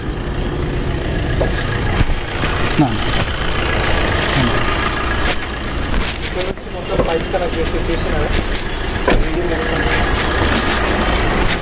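A car engine with 171,000 km on it idles steadily during an engine carbon cleaning process, giving a continuous close mechanical rumble with light knocking and a few brief clanks over it.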